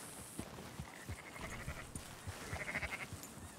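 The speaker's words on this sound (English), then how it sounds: "Marston, why don't you leave the sheep to me?" Sheep bleat softly in the video game Red Dead Redemption 2 as a small flock is herded, several short, faint calls spread across a quiet outdoor scene with low background rumble.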